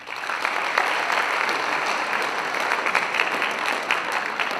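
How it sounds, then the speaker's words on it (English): Students at a high school assembly applaud steadily, a dense wash of clapping from a large group that holds level from start to finish without any talk. "I think that's something you should give yourself a round of applause."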